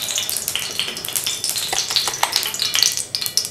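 Thin kebab tikki patties for Karachi street-style bun kebabs fry in ghee with a loud, close, steady sizzle, broken by bursts of crackling and stirring scrapes.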